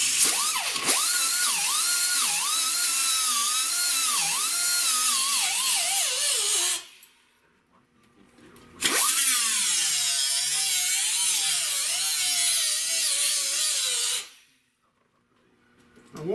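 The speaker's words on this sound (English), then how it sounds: "I gonna need to be grinded out some here" A grinder whines against a metal patch on a rusted car roof in two long, loud, close passes, its pitch wavering under load, with a short silence between them.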